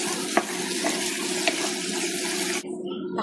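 Bottle gourd dropped into a hot pan with garam masala, chili powder, chili paste and ginger-garlic paste, giving a steady close sizzle with a few stirring clacks before the frying noise abruptly cuts off.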